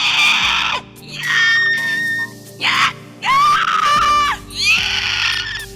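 A human voice imitating a strained, inhaled screech for the Nitara character, with several long, piercing, wavering shrieks in separate bursts, loud and close, alone.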